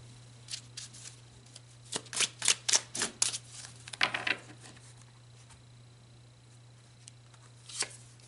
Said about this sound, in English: So let's pull some more cards now and see what's going on with this Mars